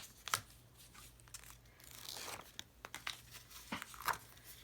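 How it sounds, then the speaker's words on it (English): Release paper is peeled back off a sticky adhesive cardstock layer with a stylus tool, making quiet close crinkles and short tearing rips, with a longer peeling rasp partway through and sharp crackles near the end. "I'm going to use the stylus end and peel back"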